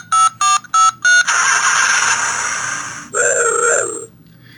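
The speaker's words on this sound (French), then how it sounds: "Le dial de téléphone, le moteur qui allume, et le petit wouh qui se réveille." Transformers Knight Rider toy playing electronic sounds: four quick telephone dial tones, then a loud engine-start burst that fades, followed by a short bright electronic whoosh, loud and close.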